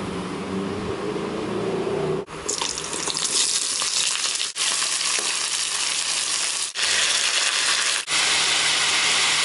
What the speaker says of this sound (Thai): ตอนนี้ผักเดือดแล้ว